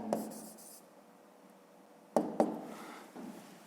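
Pen or pencil writing on paper during a maths lesson, with quiet scratchy strokes and a couple of sharper taps against a near-silent room, with no talking.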